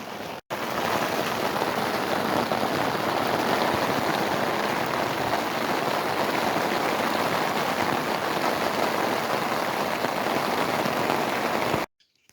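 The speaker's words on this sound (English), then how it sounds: "was really hoping it wouldn't thunderstorm, but here we are" Heavy thunderstorm rain drums on a Gazelle T3X tent, a dense, even, continuous patter that stays loud and close for about eleven seconds before cutting off abruptly.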